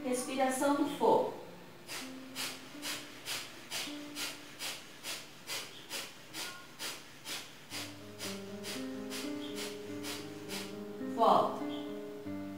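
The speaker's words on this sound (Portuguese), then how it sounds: "Abre o peito. Respiração do fogo." Rapid, rhythmic breath-of-fire exercise breaths during a home workout for older adults, a steady train of about twenty short forceful puffs at an even pace, over a soft instrumental backing with brief speech at the start and end.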